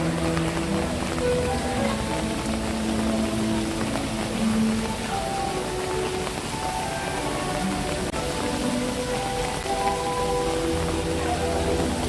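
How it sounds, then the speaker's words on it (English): Steady rain falls at EPCOT, Walt Disney World, in the evening, a dense continuous patter with a faint background murmur and no clear voices. "I hear more rain."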